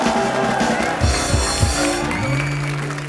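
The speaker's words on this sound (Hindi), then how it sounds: "जोरदार तालियां।" Audience applause at an evening awards event honoring medal-winning athletes, a steady clapping wash that sounds near and fairly loud, with voices and musical tones threaded underneath.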